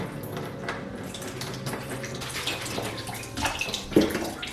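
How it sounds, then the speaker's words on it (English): Water drains from soaked lentils in a kitchen, a continuous splashing trickle that grows louder and gurgles toward the end. "So I'm going to drain the water now"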